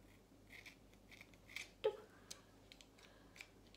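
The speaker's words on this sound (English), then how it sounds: "And you snip it." Scissors snip through a curly hair fringe during a styling job, a single sharp close cut with a few faint metallic clicks of the blades around it, no talking.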